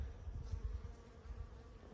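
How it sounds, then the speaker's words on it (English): Honey bees and bumblebees buzz faintly as they work almond blossoms in an orchard, a soft wavering hum of several insects nearby. "Now we can see the bees here are working hard."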